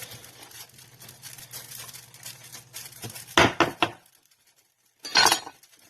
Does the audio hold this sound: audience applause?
no